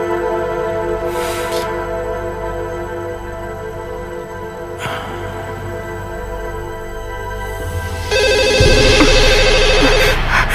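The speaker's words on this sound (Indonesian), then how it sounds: "Mudah-mudahan itu telepon dari Tuan Harry." A telephone rings in an Indonesian TV drama scene, a short bright ringing burst that arrives late, loud over soft background music, with no voices.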